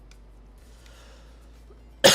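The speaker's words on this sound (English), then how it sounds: "Sorry, I coughed right into the mic on that one." A single sharp cough lands right into a microphone after a quiet stretch, loud and very close, cutting off abruptly.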